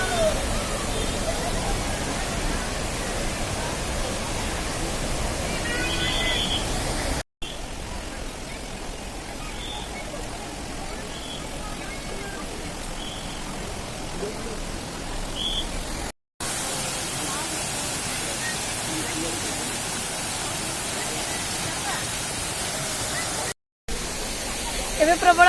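Waterfall at the Darjeeling rock garden, heard as a loud, unbroken rushing roar of falling water that fills the whole scene, cut by a few brief dropouts.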